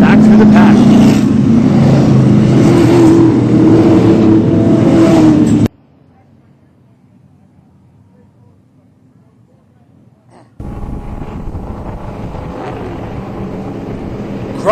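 Late model race cars on an oval track before a 30-lap main event feature, led by a pace truck: a loud engine roar for about six seconds drops to near silence, then returns somewhat quieter.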